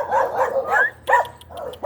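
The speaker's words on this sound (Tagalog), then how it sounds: "May mga aso pang gwardiya." Guard dogs bark repeatedly at a sanctuary in Baguio City, a series of loud, close barks and yips in quick bursts with short pauses between them.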